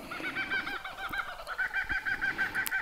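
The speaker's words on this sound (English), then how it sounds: "Got the birds in the background." Birds calling in the Australian landscape on a foggy morning, a steady chorus of bright, repeated chirps and clucking calls carrying from the background, with no voices present.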